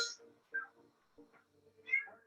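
A cat meows several times in short, clear calls spaced a second or so apart, close and fairly quiet against a silent background.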